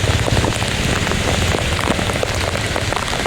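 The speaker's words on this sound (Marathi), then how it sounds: "आज जबरदस्त पाऊस पडतोय जोरात एकदम." Monsoon downpour on a flooded Mumbai street, drumming hard and continuous on nearby surfaces, a thick, even roar of rain with scattered louder splatters.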